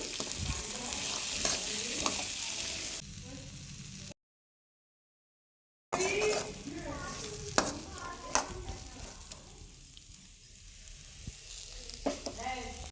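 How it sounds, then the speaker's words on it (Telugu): Chickpeas fry with chili powder in a pan while being stirred, giving a loud, close sizzle with repeated scraping strokes. The sound drops out briefly in the middle and then carries on. "కొంచెం కారం వేసుకోవాలండి ఇప్పుడు బాగా కలుపుకోవాలి"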